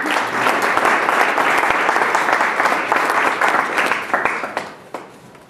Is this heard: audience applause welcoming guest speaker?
yes